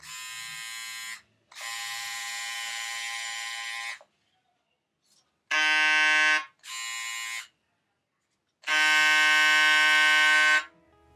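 Stylecraft Flex hair trimmer with a square blade buzzes in five separate bursts of one to two seconds each, a steady high electric whir with short silences between runs.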